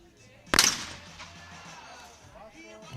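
A single sharp shotgun report cracks out at a clay target shooting final, moderately loud with a short echoing tail, while a commentator talks quietly in the background.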